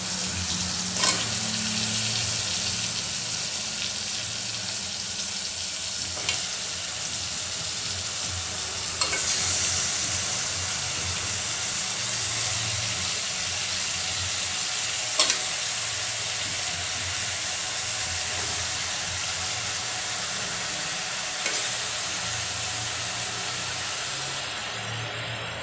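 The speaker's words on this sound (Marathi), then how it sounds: "आता आपण चारही बाजूने पूर्ण परतवून घ्यायचं त्याला." Mutton and mutton trotters sauté in hot oil with masala, giving a steady close sizzle with occasional sharp scrapes and stirs of a spoon against the pan, no voices.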